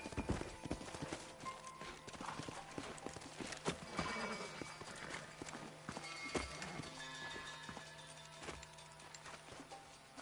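Horses in the Red Dead Redemption video game clip-clop with uneven hoof beats and let out occasional whinnies, at fairly quiet levels throughout.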